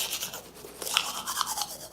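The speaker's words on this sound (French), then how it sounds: "Il va se laver les dents." A toothbrush scrubs teeth in a bathroom with quick, bristly back-and-forth strokes, close and fairly quiet, with a few sharper scrapes and no voices.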